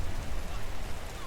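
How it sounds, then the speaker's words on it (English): Rain falls in the town-building video game Patron as a steady dense hiss with a rumbling low end, continuous and fairly loud, with no distinct voices. "Man, that rains a lot in this game."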